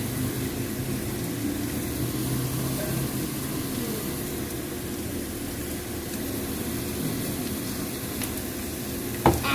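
Onions sautéing in a pan for chicken biryani make a low, steady sizzle with faint stirring, close and continuous, ending in a couple of sharp clinks.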